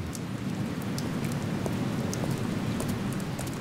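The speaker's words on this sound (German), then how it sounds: "Mensch, regnet das stark, ey." Heavy, steady rain in New York in the video game Overclocked, pattering densely on surfaces, constant and enveloping, with scattered sharper drops and no talking.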